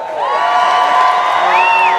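Large crowd at a Seattle tax march cheering and whooping loudly and continuously, with high shouted voices rising above a dense roar throughout.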